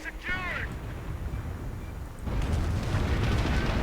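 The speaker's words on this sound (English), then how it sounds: "And another Calliope barrage," A rocket artillery barrage in a World War II strategy game rumbles continuously, swelling into a louder, denser roar of distant impacts partway through, with a brief high chirp near the start.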